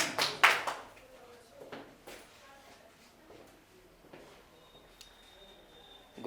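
Audience clapping during a spoken English stage presentation lecture: a short burst of hand claps at the start, then a few scattered taps under quiet talk.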